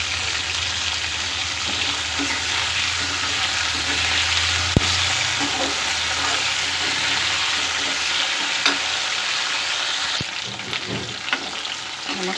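Ivy gourd frying in a pan, a loud, continuous sizzle with occasional stirring clinks and scrapes, close up and without any voices.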